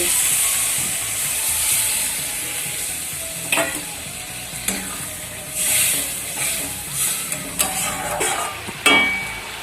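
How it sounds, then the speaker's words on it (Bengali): A hot pan of egg curry hisses and sizzles steadily after water goes in, with a few sharp clinks and scrapes of stirring close by. "এবার দিয়ে দিচ্ছি আমি ভিতরে জল"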